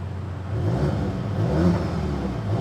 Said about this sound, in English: it has a little bit of an exhaust note difference.